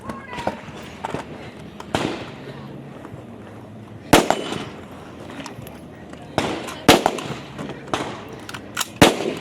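Rifle shots at a women's tactical shooting competition stage, fired from a barricade: sharp, sporadic cracks at irregular intervals, several in quick pairs, ringing out under a commentator's voice.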